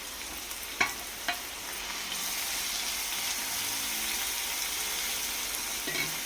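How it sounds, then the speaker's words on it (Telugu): About three blended onions hit hot oil in a pan for a poppy seed curry, bursting into a steady loud sizzle after a couple of stirring knocks, the frying hiss holding evenly to the end with no talk. "ఒక 3 ఉల్లిపాయలు మిక్సీ పెట్టుకొని వేసుకుందాం."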